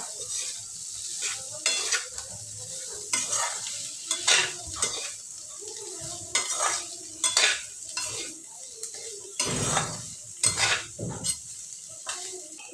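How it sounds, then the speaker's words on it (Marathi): Potatoes stirred and fried in a pan for a Marathi-style potato bhaji, with a steady sizzle under repeated scraping strokes of a spoon against the pan, close and fairly loud, no voices. "आणि आता बटाटे घालू व्यवस्थित मिक्स करून घेऊ"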